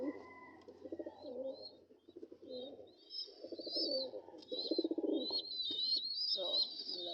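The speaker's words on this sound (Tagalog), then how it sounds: "Pakita ko sa inyo yung mga inakay dito mga kalapatids." Young pigeons in a loft give soft, steady cooing with high thin peeping calls over it, close by and continuous throughout, with a faint voice in the background.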